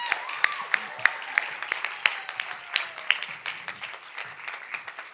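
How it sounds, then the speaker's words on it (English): At an international entrepreneur event, an audience gives a round of applause, sparse and uneven claps in a large hall that fade over a few seconds, with faint background voices. "give a big round of applause to Cepee"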